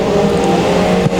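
A four-cylinder race car at Boothill Speedway, its engine a steady, loud, continuous drone held close throughout, with a brief dip near the end and no talk.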